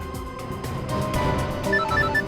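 A telephone rings unanswered under a dense, dramatic music bed, with a repeating high ringing pattern that grows clearer toward the end of the crime-drama scene.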